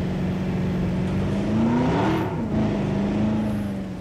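A car engine droning steadily in Jurassic World Evolution 3, a low hum that briefly swells and wavers in pitch midway as if accelerating, then settles back to a constant drone, with no talk.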